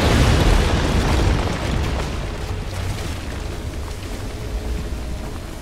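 Explosion in the video game Pacific Drive blowing up a row of tourists: a loud, dense boom at the start that decays into a long rumbling, crackling tail of debris, with no talking.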